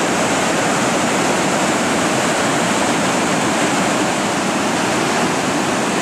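Waterfall at Foster Falls, widened and swollen, pouring in a loud, steady, unbroken roar heard up close with no voices.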